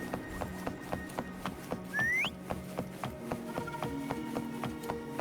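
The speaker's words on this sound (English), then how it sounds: "Try whistling." A game character in Wuthering Waves gives a short rising whistle over steady rhythmic clip-clop footsteps and background game sound.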